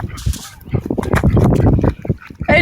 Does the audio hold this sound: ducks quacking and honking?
yes